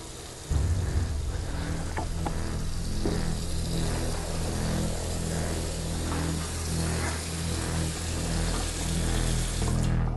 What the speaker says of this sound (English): Oh my god, the water just turned on.